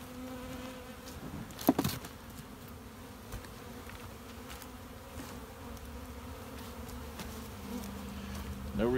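Honeybees buzz around a hive of a spring colony being fed, a soft continuous hum with individual bees passing close by now and then.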